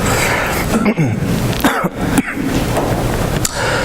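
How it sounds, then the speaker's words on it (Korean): Several short, harsh coughs from a preacher with a hoarse, strained throat break out in quick succession during a church sermon, close to the listener, each a sudden burst over a steady noisy background. "가끔씩 이렇게 기침이 납니다"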